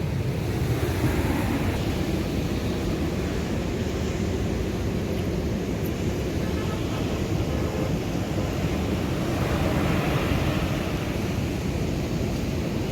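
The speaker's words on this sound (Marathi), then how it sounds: "भरपूर अशी लाटा" Continuous low roar of ocean waves mixed with wind rumble across the microphone, steady throughout with no voices.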